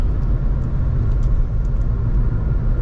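Skoda Kushaq 1.0 8AT cruising on a highway, heard from inside the cabin as a steady low engine and road rumble with a soft wind hiss above it.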